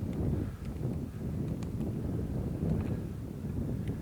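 Steady wind buffeting the microphone outdoors on a disc golf course, a continuous low rumbling roar with slight gusting swells and no voices.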